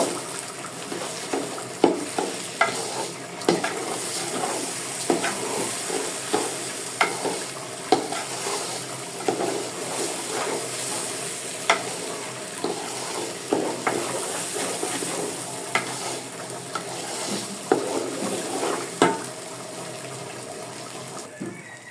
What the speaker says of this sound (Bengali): এখন আমি সুন্দর করে চালটাকে আদার সঙ্গে ভেজে নিব